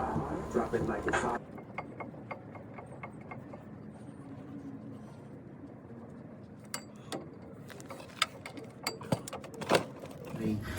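Ratchet clicks in short bursts as the brake caliper bracket bolts are fastened on a 1999 Ford F150 during lift kit installation, close and moderately loud against a quiet garage background.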